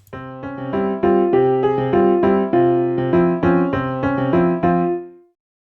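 A SunVox tracker melody plays short staccato notes in a steady, bright, repeating pattern over two measures, then fades out, with no voices.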